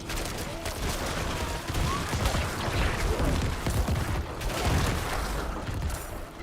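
Corpse explosion skill bursting repeatedly in Diablo IV, a dense continuous barrage of blasts and crackling debris that stays loud and close throughout.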